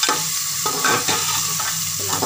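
Ginger and garlic sizzle and fry for Punjabi rajma, with a steady close crackle broken by several rhythmic scrapes of a spoon stirring through the pan.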